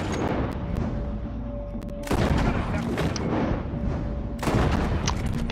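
Gunfire in Red Dead Redemption 2, with dense overlapping shots forming a loud, continuous fusillade and heavier bursts near two and four and a half seconds, all without speech.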